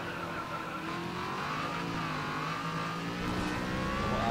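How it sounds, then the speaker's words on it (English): A race car in GRID Autosport brakes on track, its engine note falling and shifting under a steady roar with faint tire noise, loud and close throughout. "Smooth braking."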